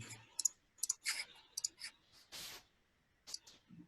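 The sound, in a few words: computer mouse clicking buttons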